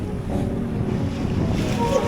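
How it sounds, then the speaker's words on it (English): Ocean waves surge and wash at a beach, a continuous rumbling roar mixed with buffeting wind on the microphone, fairly loud and close, with no speech. "you'll get freezing down there when the next wave comes."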